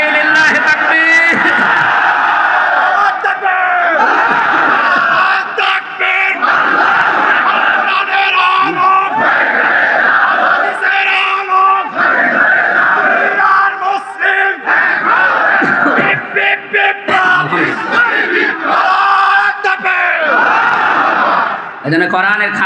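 A large crowd at an outdoor Islamic sermon gathering in Jhenaidah roars the takbir chant back to a preacher, loud, dense massed voices rising and falling in repeated waves across the whole stretch.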